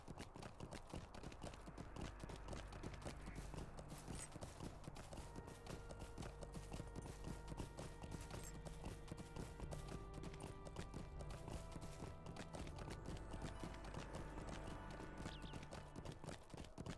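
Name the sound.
horse hooves clip-clopping in LOTRO video game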